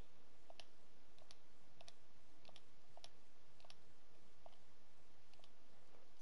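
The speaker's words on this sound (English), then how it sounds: "Let's type it in." Computer keyboard typing gives sparse, evenly spaced clicks over a steady background hiss, close and fairly quiet, with no voices.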